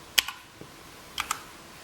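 A new computer keyboard is typed on in a quiet room, a few crisp clicky keystrokes in two small clusters separated by a pause.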